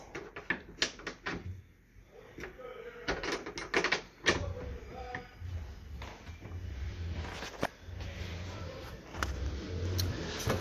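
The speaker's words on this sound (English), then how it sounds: "These have latches like that, so when you travel, please make sure you latch them." Cabinet latches on a 2021 Keystone Alpine 3712KB RV being snapped shut, a series of sharp clicks and knocks close by in an indoor space with low rumble between them.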